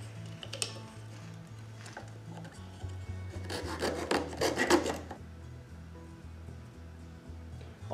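Small wooden stud material for a model house wall being cut to length, rasping back-and-forth sawing strokes building to a busier burst midway, close and fairly quiet over a low background hum.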